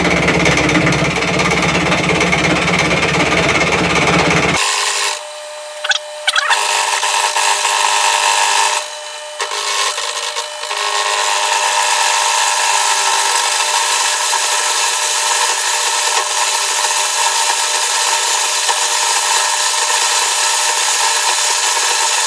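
Metal machining cut at 25 thou depth with a carbide-tipped cutter while making a sine plate, a loud, sustained grinding and rubbing tone that briefly drops out twice before continuing steadily.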